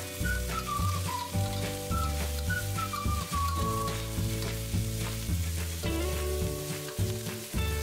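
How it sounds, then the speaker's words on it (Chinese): Scallion, garlic and green chili stir-fried in hot oil for a sour pickled-cabbage dish; a steady sizzle with stirring runs beneath prominent melodic background music for the whole stretch. "锅里油热以后，倒入葱、"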